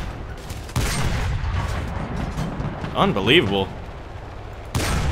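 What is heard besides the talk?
tank gunfire in War Thunder video game, 37mm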